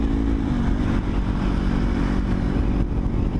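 A Honda CBR250RR sport motorcycle engine runs steadily close by, a dense throaty rumble with slight fluctuations and no talk over it.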